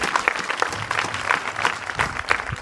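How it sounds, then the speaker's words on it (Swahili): A school audience claps for the dancers at a school event, giving a steady patter of scattered hand claps from a moderate-sized crowd. "Makofi sana kwa wale madansa."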